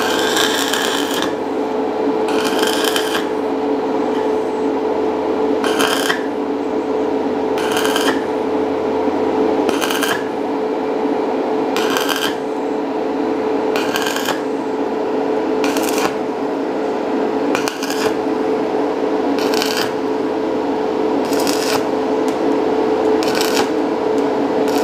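Arc welding of a seam on a thin pipe, heard as regular crackling bursts about every two seconds over a constant electrical hum, close and steady throughout.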